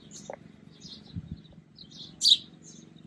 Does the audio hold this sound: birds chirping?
yes